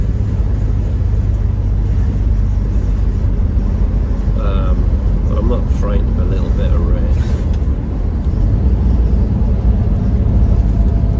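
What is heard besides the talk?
Triumph Stag classic car driving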